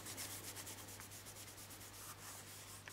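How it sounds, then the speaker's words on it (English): Dry cloth buffing a wood finish by hand, a steady soft rubbing hiss that continues without a break at close range, with a low constant hum underneath. "And you just keep buffing until it's all gone."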